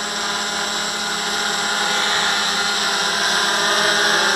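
A DJI F550 hexacopter built with an APM flight controller hovers on its first flight, its six motors and propellers giving a loud, steady, close whine with a broad buzzing roar and one slightly vibrating front motor.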